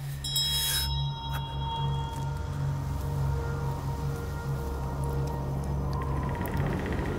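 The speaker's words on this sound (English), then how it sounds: "The bell invites me." A single bell rings out in a stage production of Macbeth, a sustained resonant tone that hangs and lingers for several seconds with no voices over it.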